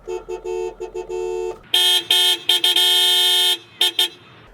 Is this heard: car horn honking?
yes